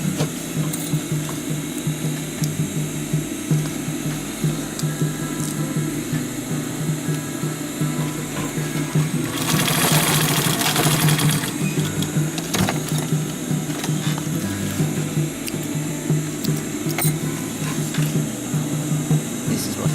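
A sewing machine stitches folded webbing on a DIY sustainment pouch, running as a continuous close mechanical whir with a louder burst in the middle.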